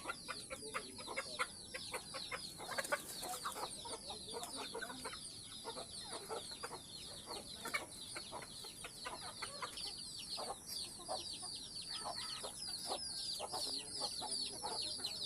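Native chickens cluck steadily in a coop, many soft overlapping calls with an occasional louder squawk, under a faint constant high hum.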